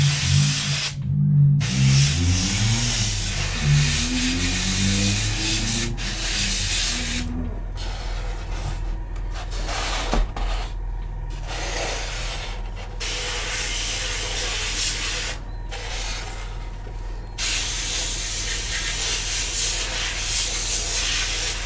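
Spray painting a second coat onto a Millennium Falcon model kit: a steady aerosol hiss runs nearly continuously through the clip, broken by a few short pauses between bursts, close and fairly loud, with no talking.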